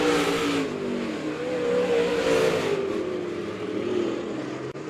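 Late model race cars racing on the oval at Monett Motor Speedway, a loud, continuous roar of engines swelling and fading as cars pass, with revving and rising pitch under no talk.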